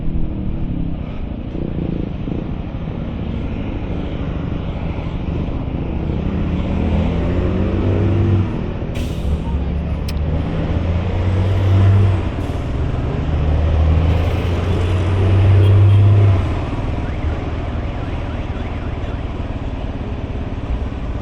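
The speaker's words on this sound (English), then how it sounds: "this is quite an auspicious start to the day, this traffic. So this is actually part of the Pan American Highway right here." Steady road traffic on the Pan American Highway, a continuous loud rumble of passing engines with heavier vehicles swelling past in the middle and later.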